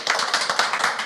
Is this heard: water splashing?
no